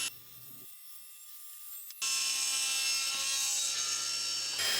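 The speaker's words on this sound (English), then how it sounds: "Then go back to your table saw and cut off the overhang." A table saw trims the wood overhang off a shooting board jig, a loud steady whine of blade through wood starting about two seconds in after a brief quieter lead-in, continuing to the end.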